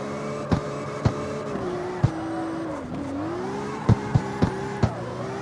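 A prototype drift car engine in CarX Street hums at steady revs, sagging briefly in pitch midway, punctuated by scattered sharp thumps and clicks.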